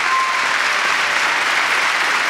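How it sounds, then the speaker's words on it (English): Audience applauding a discussion panel on race, justice and democracy in Seattle; steady, dense clapping fills the room throughout without a break. "Please give them a round of applause."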